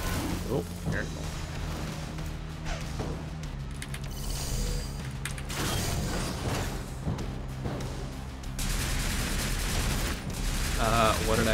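Enemy gunfire in the video game GUNHEAD, sustained bursts of shots and booms throughout over a droning game soundscape, with a player talking at times.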